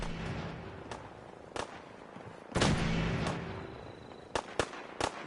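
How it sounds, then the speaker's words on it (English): Gunfire in the game Fallout 4: several sharp separate shots, one heavy blast with a rolling tail, then a quick cluster of cracks near the end, fairly loud against low ambience. "Good shooting."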